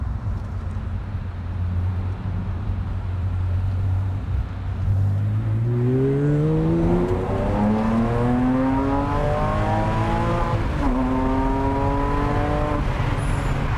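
A Porsche 987.1 Cayman with a 4.1-litre naturally aspirated engine idles low inside the cabin, then pulls hard through rising revs in a long climbing wail, eases briefly around a shift and climbs again.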